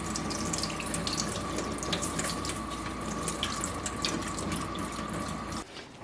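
Broth pours into a pot for jambalaya in a steady splashing liquid stream, close and fairly loud, stopping abruptly near the end.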